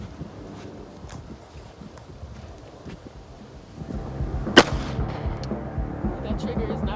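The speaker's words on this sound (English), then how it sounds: "I'm gonna shoot a couple rounds, then tell you what I think, and then shoot some more." A single sharp pistol shot from a ZEV OZ9 fitted with a red dot sight cracks out close by, set against outdoor wind and handling noise, with a low rumble rising just before it.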